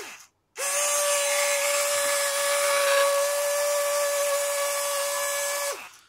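A homemade mini ultrasonic cleaner holding nuts and bolts switches on and runs loudly, giving a steady, shrill, ringing buzz for several seconds before cutting off.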